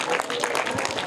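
An audience at a children's quiz applauds a winning answer with a brief, dense burst of clapping and crowd noise, loud and close throughout.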